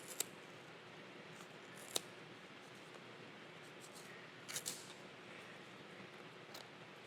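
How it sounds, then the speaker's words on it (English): Quiet scissor snips cutting around a yarn pom-pom, a few sharp isolated cuts spaced apart with a brief cluster in the middle, over faint hiss. "run your scissors along. And just stick it in there and cut."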